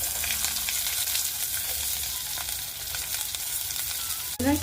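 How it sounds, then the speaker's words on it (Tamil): Continuous close sizzling of onions and chayote frying in a pan for sambar, with faint stirring scrapes and a sharp clink near the end. "இதையும் சேர்த்து நல்லா வதக்கிக்கலாம்"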